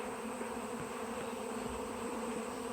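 A honey bee swarm clustered on a tree in Minnesota gives a dense, continuous buzz of many wings, steady and close, with no voices.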